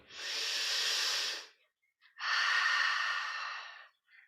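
Two long, steady breaths taken while holding a yoga pose, each a broad airy rush lasting over a second, close and fairly loud with a short quiet gap between them and no talking.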